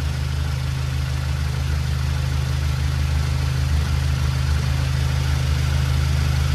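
A 2015 Audi TT MK3 engine idling steadily with the car parked for a transmission oil service, a constant low rumble that holds at an even, fairly loud level throughout with no voices over it.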